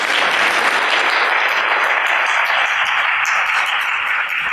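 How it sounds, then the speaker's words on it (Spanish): An audience at a lecture on parapsychology and syntergic theory bursts into loud, dense applause, many hands clapping steadily and close, with no voices over it. "Un gran aplauso, por favor."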